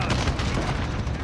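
An explosive charge detonating in Call of Duty Modern Warfare makes a loud, sustained, rumbling boom that fills the whole short moment.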